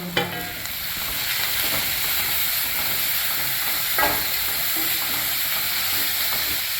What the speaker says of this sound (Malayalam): ഉള്ളി ഒന്ന് വാടി വന്നിട്ടുണ്ട് നമുക്കിനി ഇതിലേക്ക് ക്യാരറ്റ് ചേർത്ത് കൊടുക്കാം